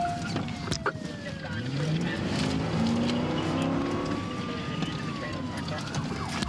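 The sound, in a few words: car fleeing police while driving on its axle after losing tires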